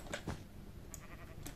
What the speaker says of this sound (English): we spawn right next to sheep